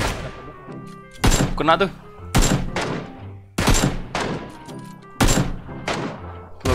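Gunfire in the battle-royale shooter PUBG: four loud, sharp bursts spaced roughly a second or so apart, each with a short ringing tail, while players talk over the shots.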